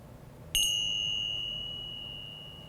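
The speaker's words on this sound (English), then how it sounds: "I like to use a bell to both start and end my meditation" A single meditation bell is struck once, giving a clear bright ding that rings out and slowly fades over a couple of seconds in an otherwise quiet room.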